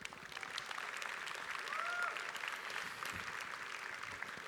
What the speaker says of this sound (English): So give yourself a really big applause